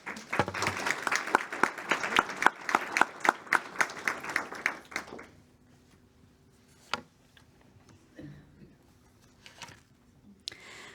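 Audience applause welcoming a speaker at an OECD review event on continuous learning in Finland, a dense burst of clapping for about five seconds that then dies away to scattered faint claps and room noise.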